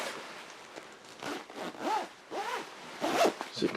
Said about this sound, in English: Now let's zip it up